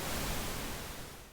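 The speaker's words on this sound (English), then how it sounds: "Pink noise, on the other hand, which kind of sounds like filtered white noise" Pink noise test signal, a steady broadband hiss with its energy spread evenly per octave, alone and fairly loud, fading slightly toward the end.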